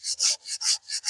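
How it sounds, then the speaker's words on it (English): Hand sanding on a wooden gun stock, six steady back-and-forth rasping strokes in an even rhythm, close and fairly loud with no voices. "what I'm doing today is I'm sanding the stock down"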